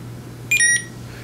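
A short two-tone electronic beep, a quick chirp pair, from a Gozens Bike Guard 708AA anti-theft alarm tag disarming, rings out clearly over a steady low hum.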